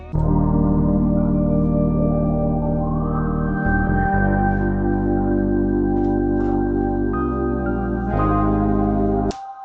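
An analog synth plays a slow melody over sustained low synth notes, joined by light drums and percussion, steady and without any voices.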